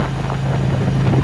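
A Harley motorcycle engine runs during a ride, a loud steady low drone mixed with heavy wind rush, in a very short stretch without speech.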